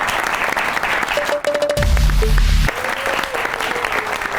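Studio audience on a talk show applauding a singer; steady clapping runs throughout, interrupted midway by a short loud low-pitched burst of music or effects and a few brief tonal beeps.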